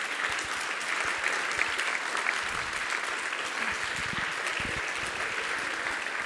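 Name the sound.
audience applause at a summit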